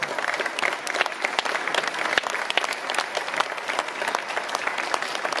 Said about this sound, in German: Christina Stüttke, nochmal einen herzlichen Applaus